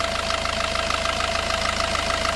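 A Maruti Ciaz diesel car engine idles close by with a steady low rumble and a fast, rhythmic knocking clatter that continues without a break.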